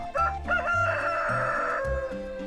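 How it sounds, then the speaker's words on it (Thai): Rooster crowing in the farming game Stardew Valley, a loud, close cock-a-doodle-doo call repeated in tonal bursts with a stepped rhythm, standing alone without voices. "ไก่บ้านผมก็ขันนะครับในเกมก็ขัน"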